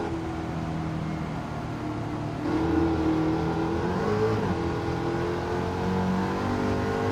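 Eckert's Rod and Custom Mach Forty in Gran Turismo 7 at Circuit de La Sarthe, a steady engine drone that rises slightly in pitch as the car accelerates, heard alone with no talk.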